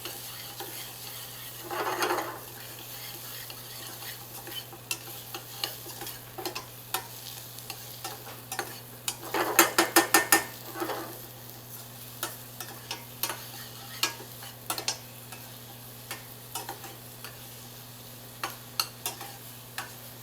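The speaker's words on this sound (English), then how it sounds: "Once we get a little bit of a saute on these, we can add now our red pepper flakes and herbes de Provence" Lentils saute in a pan as red pepper flakes and herbes de Provence go in, with a low steady sizzle under repeated scraping stirs and sharp clicks of the utensil, busiest midway, over a faint constant hum.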